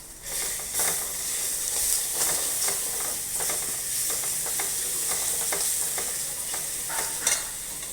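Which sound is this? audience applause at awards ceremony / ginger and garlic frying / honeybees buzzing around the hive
ginger and garlic frying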